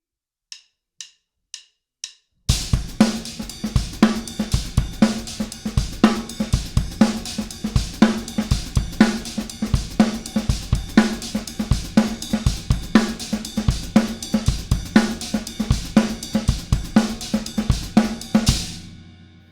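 A drum kit opens with four evenly spaced stick clicks, then plays a steady implied paradiddle groove of kick, snare and busy cymbal strokes, loud and close, with no talking.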